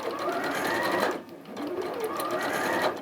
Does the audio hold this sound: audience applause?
no